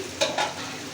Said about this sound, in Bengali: গোট গোট করে আলু কেটে নিয়েছি, কেটে ভাজছি